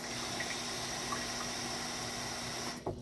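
Water runs steadily while being poured into a herb mixture of thyme, rosemary, garlic and curly parsley, making a constant splashing rush that stops abruptly near the end.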